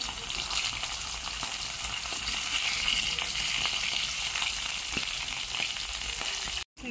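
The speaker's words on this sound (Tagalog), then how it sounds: "So, mainit na yung ating kawali. Lagay na natin yung ating dried sapsap." Dried sapsap fish frying in a hot pan, producing a loud, steady, close sizzle with faint crackles that continues almost to the end before a brief cutoff.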